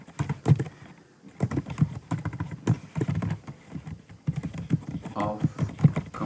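Rapid, irregular clacking of computer keyboard keys while code is typed for a Django template, close and fairly loud, with brief pauses and a faint voice murmuring in places.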